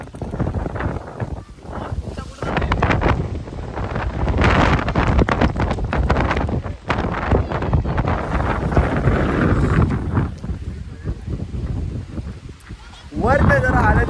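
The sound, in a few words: stormy wind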